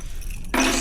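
A brief, sharp metallic jangle of keys bursts up after a quiet moment indoors, close and short.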